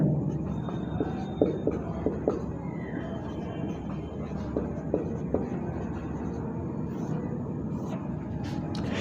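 Chalk or marker writing on a board during a chemistry lesson, soft scratchy strokes in short bursts repeating over several seconds against a faint background hum.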